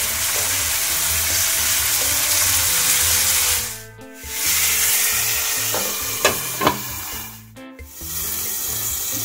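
Pomfret fish fries in butter in a pan with a steady, loud sizzle. It cuts out briefly twice, and light scraping and clinks come through.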